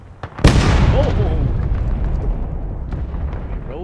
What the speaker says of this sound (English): once the cannon or this rifle gun shoots, this 3-inch rifle gun or cannon gun, whatever, you'll hear a secondary explosion